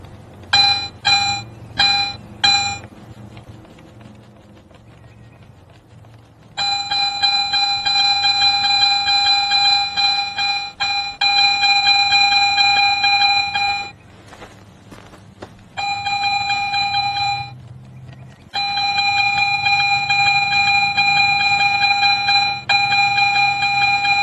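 A Garrett metal detector sounds a bright, steady electronic tone as it sweeps over a buried target, beginning with quick repeated beeps, then long sustained tones broken by short gaps and resuming each pass; loud and close, no talking.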